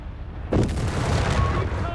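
Artillery and mortar bombardment in Company of Heroes 3, a sudden heavy boom at half a second followed by sustained rumbling blasts and crackling fire, dense and loud throughout.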